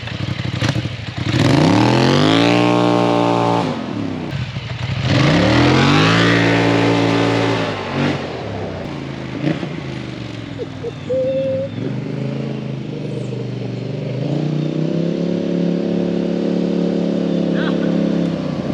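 A Polaris side-by-side fitted with an aftermarket intake, clutch kit and high-flow exhaust revs hard in repeated rising surges, its loud engine droning close by before settling into a steady rumble while driving downhill.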